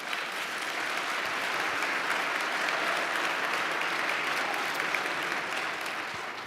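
Steady, sustained applause from a large indoor audience, dense and even throughout, with no voices standing out.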